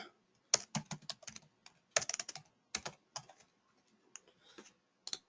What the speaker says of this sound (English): Okay, he will be typing.